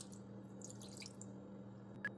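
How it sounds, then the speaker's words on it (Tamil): Lemon juice squeezed by hand and poured into a bowl of cut chicken pieces, heard as a few quiet drips and light liquid trickles over a faint steady hum, with one brighter splash near the end. "இதில ஒரே ஒரு லெமன் மட்டும் புழிஞ்சு ஊத்துறோம்"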